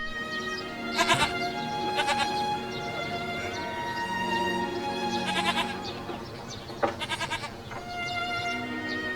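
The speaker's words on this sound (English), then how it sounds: "Help me round up the goats." Goats bleat on a rural farm in northern China, several calls rising at intervals over a steady background, moderately loud and close, with no talk.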